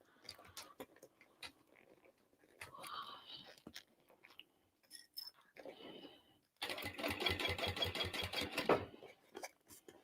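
A flatbed sewing machine stitches a dolly bag in a steady rapid burst of needle strokes near the end, after scattered handling clicks and rustles of fabric.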